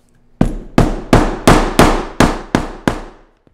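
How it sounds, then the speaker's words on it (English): Hammer strikes a shoe sole to set a glued corner, eight sharp, loud, evenly spaced whacks in quick succession with no talking. "just give it a few more whacks with the hammer"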